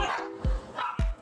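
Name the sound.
dog barking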